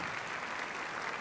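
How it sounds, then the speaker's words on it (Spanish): Brief applause from a concert audience at a military orchestra, choir and mariachi performance, a dense steady wash of clapping heard alone and moderately distant. "El aplauso para ella, por favor."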